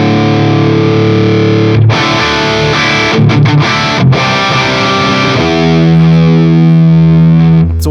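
Heavily distorted electric guitar through a Fryette Deliverance amp with presence and depth controls engaged, loud sustained chords with a brief choppy passage midway, then a held ringing chord.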